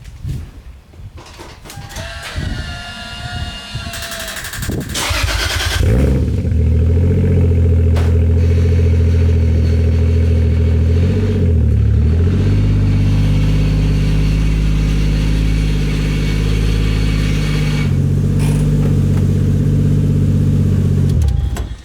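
A big-turbo 1JZ engine in a Toyota Chaser cranks and fires, then settles into a loud, steady rumbling idle with occasional rev blips, heard close up with no talking.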